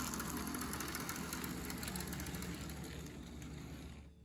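An Athearn Blue Box EMD FP45 model locomotive runs on track after restoration, giving a steady, fairly loud mechanical whirr and rumble from its many wheels and motor that fades slightly toward the end.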